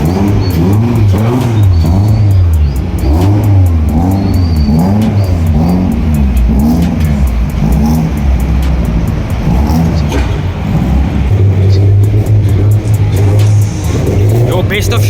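Cars leave a car show with engines revving and pulling away: a loud, continuous, rumbling engine roar that rises and falls, close by, with voices partly buried beneath it.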